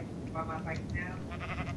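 Sheep in the Minecraft video game bleat in several short wavering cries under a player's talking voice, fairly quiet overall.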